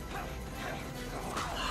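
Sled dogs barking in the animated film Balto, a dense clamor of yips and barks mixed with scuffling, whimpering and movie background noise, all fairly faint and continuous.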